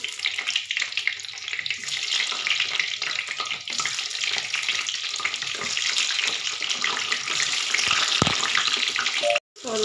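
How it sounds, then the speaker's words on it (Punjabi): Capsicum (bell peppers) hit a hot frying pan and sizzle steadily, a loud, continuous hiss with faint stirring scrapes and a brief cutoff near the end. "ਹੁਣ ਮੈਂ ਵਿੱਚ ਸ਼ਿਮਲਾ ਮਿਰਚ ਪਾ ਦਾਂਗੀ"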